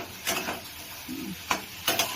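Onion, mustard seeds, cumin and garlic fry in oil in a Bengali kitchen while preparing tel koi fish, a soft steady sizzle with a few scraping stirs of a spoon against the pan, close up.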